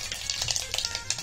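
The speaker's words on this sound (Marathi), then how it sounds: "मोहरी तडतडली की 4 कढीपत्त्याची पानं घालायची." Mustard seeds crackle in hot oil with curry leaves, giving a fast, steady spatter of small pops and hiss. The sound is close and moderately loud, with no speech over it.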